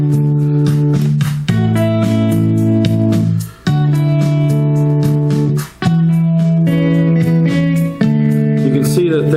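Telecaster guitar tracks played back from a Roland S760 sampler, synced to an MPC-2000 sequence: loud, sustained electric guitar chords with steady rhythmic changes and brief drop-outs between phrases, heard alone.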